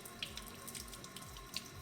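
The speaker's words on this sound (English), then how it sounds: "we're going to start by thoroughly washing our tomatoes" Tomatoes being washed under a running kitchen sink tap, a steady faint hiss of flowing water with small splashes and clinks close by.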